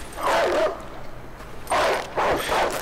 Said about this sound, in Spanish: ¡ay, maldito perro!